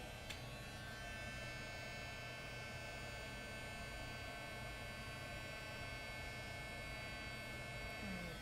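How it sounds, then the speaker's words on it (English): A craft heat tool for embossing runs steadily as it warms up, a constant airy whoosh with a low motor hum lasting throughout at a moderate, even level. "I'm warming up my tool. This is called a heat tool."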